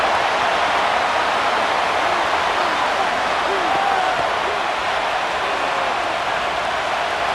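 Steady, dense stadium crowd roar in Madden NFL 25 during a San Francisco 49ers vs New York Giants game, a continuous wash of cheering at even loudness with a commentator's voice running over it.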